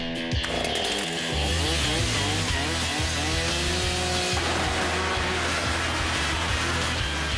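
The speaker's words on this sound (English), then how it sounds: "If Jamie can start the chainsaw." A chainsaw used to cut up an airplane sputters to life and roars loudly up close, its engine revving and whining in pitch as it keeps running without letup.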